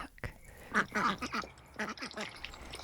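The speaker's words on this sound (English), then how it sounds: "Naughty duck." Ducks quacking close by, a burst of nasal, raspy quacks overlapping one another in a noisy outdoor setting.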